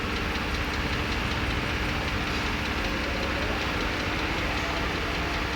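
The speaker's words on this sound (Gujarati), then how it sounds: "પાવરટેક 445 વેચવા માટે આવેલું છે, જે 45 HP ટ્રેક્ટર આવે છે" A Powertrac 445 tractor with a 45 HP engine runs steadily, a constant loud mechanical drone and rumble with no breaks and no talking.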